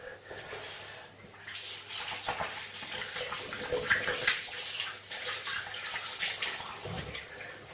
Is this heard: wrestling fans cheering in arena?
no